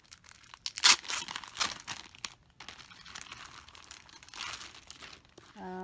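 Plastic packaging from an Amazon delivery being torn and opened, close crinkling and tearing in several bursts with a loud rip near the start, continuing in rustling spurts throughout.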